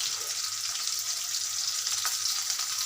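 Onions frying in hot oil in a pan, alongside green chilies, for a Bengali stir-fry of sweet pumpkin with prawns, giving a steady, dense sizzle with no pauses and no talk.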